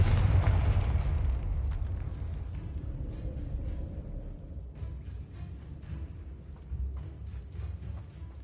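In Hogwarts Legacy, the Confringo fire spell explodes with a loud, heavy boom at the start, then a long rumbling roar of burning and debris that slowly fades. No one speaks.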